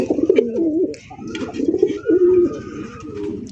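Several white pigeons at a pigeon farm coo in soft, throaty rolling phrases, close and clear, repeating every second or so with no talk over them.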